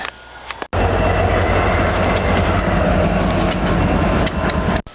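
A freight train rumbles past close by, loud and continuous, with a steady roar and rattle of rolling cars.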